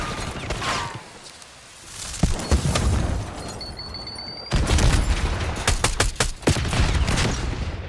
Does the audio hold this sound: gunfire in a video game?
yes